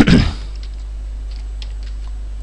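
A web address typed on a computer keyboard while building a link in Dreamweaver CS5.5: a loud knock at the start, then a few faint, scattered key clicks over a steady electrical hum.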